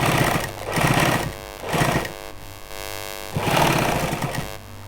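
Sewing machine stitching along the edge of a pocket on pant fabric, loud close bursts of rapid mechanical chatter that start and stop four times with short pauses between, no voices.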